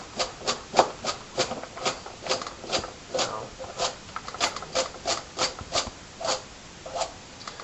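A kitchen knife slicing carrots into rounds about one centimetre thick on a cutting board, a close run of crisp, evenly paced chops repeating steadily about twice a second.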